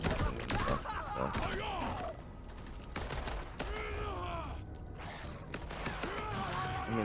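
Rapid pistol gunfire in the Borderlands Mobile shooter game, bursts of sharp repeated shots in several volleys over a busy mix of game sounds and effects, loud and close.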